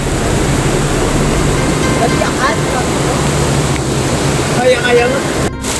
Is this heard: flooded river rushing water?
yes